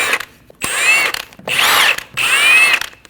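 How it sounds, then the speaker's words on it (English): A power tool with a 17mm socket spins lug studs off the rear wheel of a 2012-2022 Volkswagen Passat, giving three loud, close whirring bursts separated by short pauses. "Using a 17mm socket, remove the 5 lug studs."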